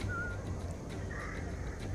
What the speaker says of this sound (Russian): мы можем вот этого стражника подозвать свистом